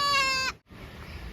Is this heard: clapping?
no